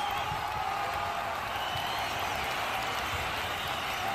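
A stadium crowd at a charity football match cheers and applauds steadily for the teams, a dense, continuous wash of far-off roaring and clapping without clear peaks.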